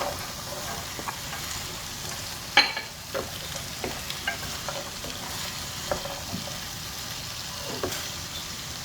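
Peas, carrots and fenugreek stirred into sizzling masala with potatoes in a pan, a steady frying hiss broken by scattered spoon scrapes and clinks, close and fairly loud.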